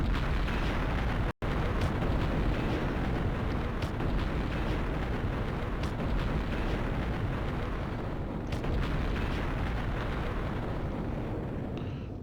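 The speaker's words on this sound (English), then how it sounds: "Holy crap, you gave this thing incendiary rounds." Incendiary rounds from a Nebelwerfer rocket launcher keep exploding in a snowy, wooded tank battle game, a dense and steady roar of blasts and bursts that drops out once for a split second near the start.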